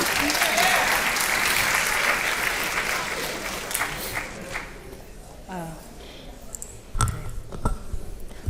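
Applause from a literary festival audience honoring poet Nikki Giovanni, with loud, sustained clapping and some cheering that slowly thins out, then a few thumps and a voice speaking near the end.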